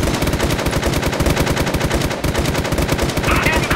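Dense, loud automatic gunfire in a competitive shooter video game, with rapid shots running continuously without a break for nearly four seconds.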